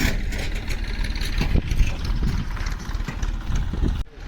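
A tractor's engine idles close by for several seconds, a steady, rumbling low diesel chug with no voices, cutting off abruptly near the end.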